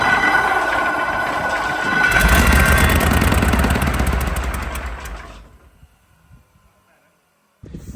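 A huge 38.8 litre V12 engine that once powered a hospital is cranked over, giving a loud, steady churning rumble with rapid rhythmic pulses that builds, then winds down and fades to near silence before a brief noise at the end.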